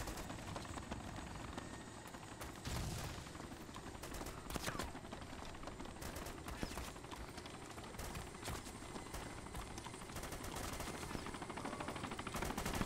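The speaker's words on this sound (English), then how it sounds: "Enemy fire!" Automatic gunfire in the military shooter game Arma II, with dense crackling bursts and rapid shots over a constant engine-like drone, loud and sustained throughout.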